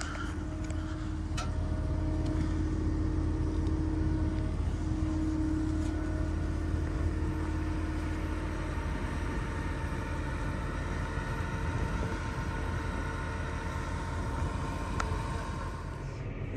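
A silage harvester moves into position in a clary sage field, giving a low, steady engine drone and rumble throughout with faint mechanical ticks, fairly distant and even.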